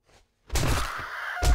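A crow-like bird in the video game 7 Days to Die gives a harsh, loud caw, a brief faint note followed by a sustained raspy call.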